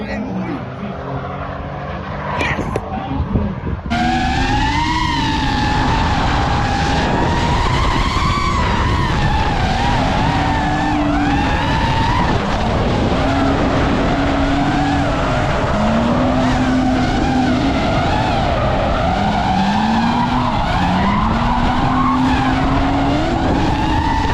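Race car tyres spinning and skidding at a winter battle series event, a loud, sustained screech with wavering engine tone running unbroken for over twenty seconds, close and dominant, with excited voices partly buried beneath it.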